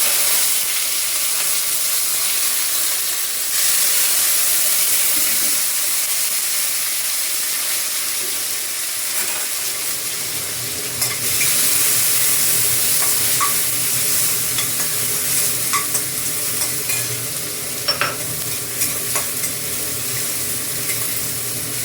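Cluster beans with crushed garlic and curry leaves sauté in a hot pan, a steady loud sizzle and hiss with stirring scrapes running throughout, no voices.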